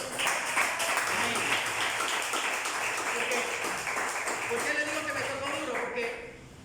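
A church congregation applauds the Lord during a pastor's sermon, a dense, steady wash of clapping lasting several seconds and fading at the end, with voices mixed in.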